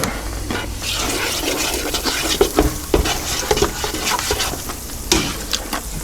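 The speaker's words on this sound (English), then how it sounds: "saute for my eggs" Eggs sizzle and crackle in a Cosori multi cooker pan while a utensil stirs and scrapes, the frying hiss steady and close with irregular scraping taps.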